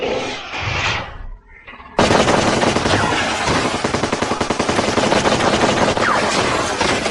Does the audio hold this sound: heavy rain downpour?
no